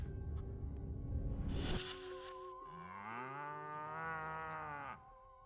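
Cow lowing in the video game Destroy All Humans, a long drawn-out moo that rises and then falls, heard clearly after a buzzing insect-like hum fades out.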